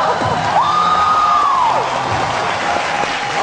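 A Geo TV studio audience on The Sahir Show makes a burst of cheering and shouting, a dense crowd roar with one rising whoop standing out, close and loud.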